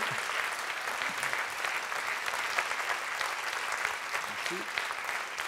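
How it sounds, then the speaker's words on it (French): Steady audience applause at a live stage event, a dense even wash of clapping lasting several seconds with faint voices underneath. "Pour l'instant, tu prends les applaudissements."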